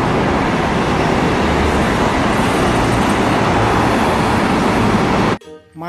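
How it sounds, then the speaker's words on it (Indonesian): Steady loud roar of road traffic passing close by around a double-decker bus, with dense broadband rumble that cuts off abruptly near the end. "Mobil bus tingkat."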